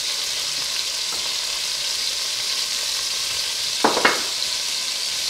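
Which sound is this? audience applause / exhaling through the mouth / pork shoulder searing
pork shoulder searing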